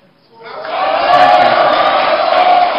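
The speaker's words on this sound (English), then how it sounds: "Could you please, audience members, please, could you stop jeering or clapping?" A live audience at a governorship debate breaks into a loud roar of jeering and shouting that swells quickly and holds steady with no break.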